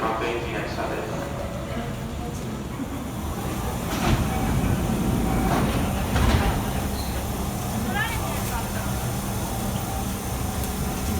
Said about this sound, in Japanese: 到着の列車は東生駒駅各駅電車です。